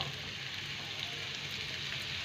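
Chicken liver and gizzards frying in a pan, a steady, even sizzle with no breaks, moderately loud and close.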